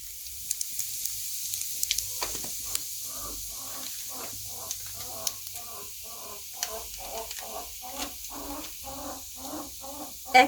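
Carom seeds (ajwain) crackle and sizzle in hot oil over a low-to-medium gas flame while mango pickle is made, a series of rhythmic popping sizzle bursts under a steady faint hiss, close by.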